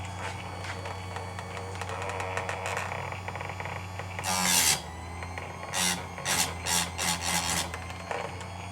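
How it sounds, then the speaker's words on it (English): A Harbor Freight chain saw sharpener grinding a chain link, a steady motor hum broken by several short, bright rasping bursts as the wheel bites into the teeth. "we will try to sharpen a link or two here and see what we got"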